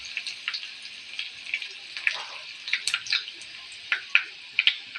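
Garlic frying in a pan for a tadka, a thin, fairly quiet spattering sizzle with scattered sharp pops and crackles, close by and with no voices.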